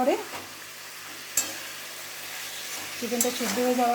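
Chicken for butter chicken is sautéed in a pan with a soft, continuous sizzle and a couple of sharp scraping stirs, with faint voice-like tones at the start and end.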